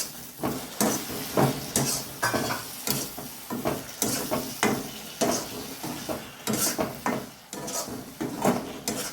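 Potato and radish fry with tomato in a pan while a utensil scrapes and stirs in repeated bursts, close and fairly loud.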